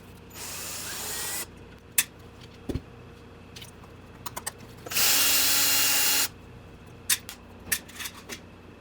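A power driver whirs in two short bursts while backing screws out of a Traxxas X-Maxx RC truck, with sharp clicks and small taps of the tool and parts in between.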